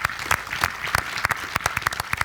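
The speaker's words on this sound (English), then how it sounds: "can we have a round of applause for them" Audience applause at a Scala World closing panel in 2016: a brief burst of many hands clapping, fairly steady and moderately loud, with sharp individual claps standing out.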